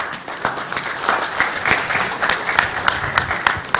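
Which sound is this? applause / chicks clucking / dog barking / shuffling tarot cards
applause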